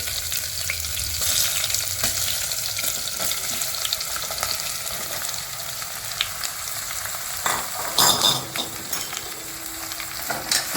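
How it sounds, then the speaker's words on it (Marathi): Pumpkin flowers frying in hot oil with asafoetida, a steady close sizzle with scraping stir strokes throughout, sharper clatters near the end. "भोपळे चांगलं हलवून घेऊ म्हणजे प्रत्येक फुलीला तेल लागलं पाहिजे"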